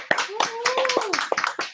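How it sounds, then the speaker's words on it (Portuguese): Scattered clapping from a small audience at a cinema event in Alagoas, northeastern Brazil: a handful of sharp, uneven claps with a thin whistle-like tone running briefly through the middle. "Palmas para vocês, estamos com vocês."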